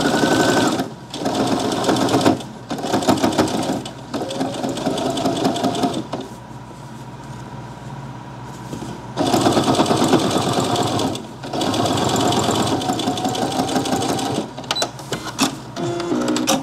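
A sewing machine stitching fabric with a very thick needle, loud rapid mechanical whirring in several long runs separated by short pauses, with a quieter stretch in the middle.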